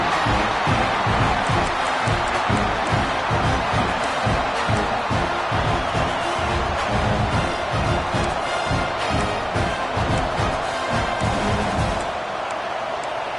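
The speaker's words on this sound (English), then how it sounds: "This crowd bringing the energy and noise early." Dense stadium crowd roaring and cheering inside EA College Football 26 during a Florida State versus Wake Forest game, a loud continuous wall of noise that drops off sharply near the end.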